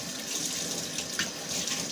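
Plain water runs steadily from a tap into a sink, a close, continuous splashing rush with a slight rise in splatter midway.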